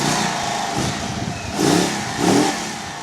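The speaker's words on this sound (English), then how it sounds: "So Matt is here with a 25 Indian Chief, Sport Chief, and he's going to kind of tease you with it just a little bit" A 2025 Indian Chief Sport Chief motorcycle engine idles, then is blipped twice in quick succession, each rev a short, loud, deep surge rising over the close, rumbling idle.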